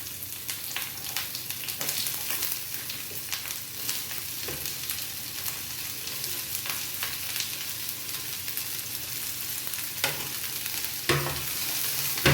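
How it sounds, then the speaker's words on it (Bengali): Onions frying in hot oil in a pan, a dense continuous sizzle with scattered stirring scrapes and clicks close by, slightly louder toward the end; no voices. "এবার আমি পেঁয়াজটা ভাজবো।"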